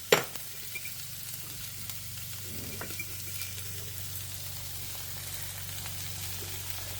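Vegetables sautéing in a pan give a soft, even sizzle after one sharp knock at the start, continuing quietly and steadily with no talk.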